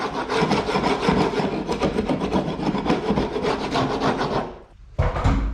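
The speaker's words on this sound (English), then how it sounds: "Now you can scrape away any of that loose material." A scraper rasps loose plaster out of a crack in an interior wall in steady, close, gritty strokes that break off briefly near the end, with no talk.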